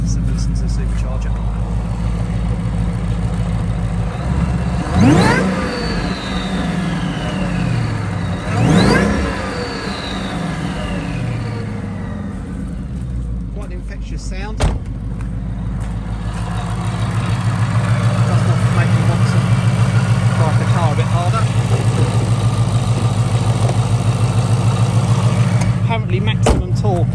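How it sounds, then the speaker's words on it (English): A 2017 Ford Mustang GT convertible with a 5.0 V8 and Whipple supercharger, automatic, accelerating hard with two sharp rising whines and revs early, then a steady loud engine drone and whir; a voice talks over it. "So listen to the supercharger."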